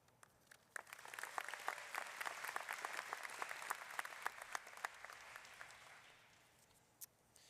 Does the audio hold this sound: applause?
yes